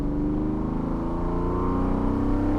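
A Lamborghini Diablo VT pulls hard in second gear, its engine note climbing steadily in a loud, continuous snarl heard from inside the car.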